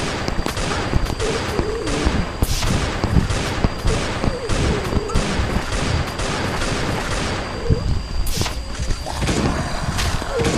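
Armor-piercing shotgun fire in the Last Day on Earth: Survival video game, heard as dense, loud, rapid repeated blasts that continue throughout the arena fight.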